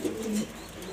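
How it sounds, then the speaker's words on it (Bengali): A pair of young pigeons kept for sale give a short, soft coo, heard close and alone. "এই যে দুইটা কবুতর"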